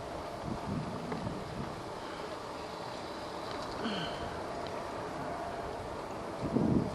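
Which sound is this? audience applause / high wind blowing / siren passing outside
high wind blowing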